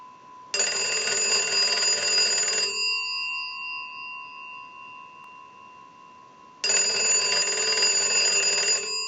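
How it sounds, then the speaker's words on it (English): A Kellogg wooden wall crank telephone's bell ringing on a workbench, two loud, sustained metallic rings of about two seconds each, separated by several seconds of near silence. "we're going to ring the unit. We'll let that go a few times."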